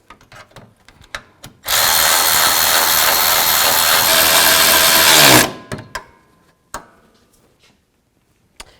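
A power tool runs in one steady burst of about four seconds, then winds down, tightening the hood latch bolts on a 2000-2006 Chevy Tahoe. Scattered clicks and clanks from handling the parts come before and after it.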